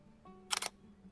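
A single camera shutter fires once, a brief close double-click burst that stands out over a faint low hum.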